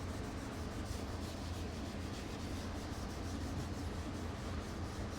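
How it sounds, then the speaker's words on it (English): A boat hull surface being scuffed by hand before a keel guard goes on, heard as continuous close rough rubbing and scraping with a faint rapid back-and-forth rhythm and no pauses. "Step 1 is just scuffing it up."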